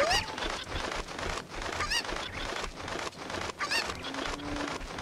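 Chicken clucking in The Legend of Zelda: Ocarina of Time, a run of sharp bird calls repeating across several seconds over a busy game soundtrack, fairly loud and without talk.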